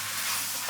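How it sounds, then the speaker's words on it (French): Beef collar bones and rib pieces browning in oil, dusted with flour, give a steady close hiss of frying with a soft stirring texture throughout, no voices. "elle fait rissoler dans de l'huile les os du collier et les morceaux de côte"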